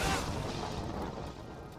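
A single Arcane Orb spell in Diablo 3 explodes like a grenade, giving a broad, rumbling blast that decays over a second or two at moderate loudness, with no talk.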